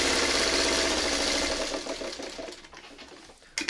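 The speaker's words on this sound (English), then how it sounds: "I only sew down until I run out of the top fabric." A sewing machine stitches fabric in a continuous whirring run while sewing a braid quilt pattern, loud at first and then slowing and fading out over the last second or two before a brief click.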